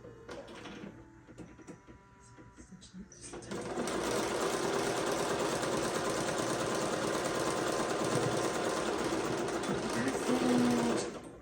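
A sewing machine runs in one steady, loud continuous stitch up the side of a fully lined apron after pivoting a corner, preceded by a few seconds of quieter handling sounds.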